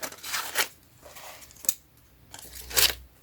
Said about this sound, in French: je vais couper cette partie-là